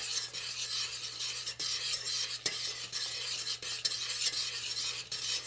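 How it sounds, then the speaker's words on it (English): Butter melting in a pan for chocolate brittle is stirred continuously, a close scraping, rasping sound with small clicks of the utensil against the pan over a faint sizzle and a low steady hum. "I'm going to keep stirring until the butter is melted"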